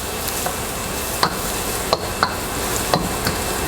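Sautéed meat with annatto powder and beef cube sizzling in a pan as it is stirred, a steady close frying hiss broken by several crisp scrapes and clicks of the spoon.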